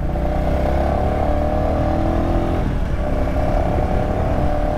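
A 2023 Royal Enfield Classic 350 motorcycle being ridden, its engine a loud steady low thump with rising revs and constant road and wind noise throughout.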